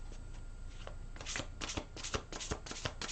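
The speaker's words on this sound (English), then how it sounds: "Shuffle these just a few times." A big, thick tarot deck being shuffled by hand, a soft riffling run followed by a rapid series of distinct card-slapping bursts, close and clear with no talking.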